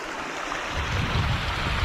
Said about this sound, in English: Water rushing over top.